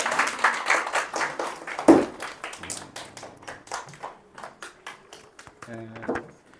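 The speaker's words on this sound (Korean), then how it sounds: "박수 한번 쳐주세요." Audience clapping at a children's sermon, a burst of applause near the start that thins into scattered claps, with some talk mixed in.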